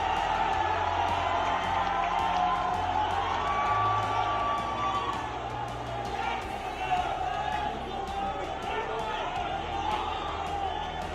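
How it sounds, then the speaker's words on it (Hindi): A large crowd applauds and cheers at a Congress party political rally in Madhya Pradesh as former chief minister Kamal Nath is welcomed. The clapping forms a dense, steady roar with scattered whoops, and an amplified voice speaks over it. "मध्य प्रदेश के पूर्व मुख्यमंत्री माननीय कमलनाथ जी का जोरदार तालियों के साथ उनका स्वागत हम करें"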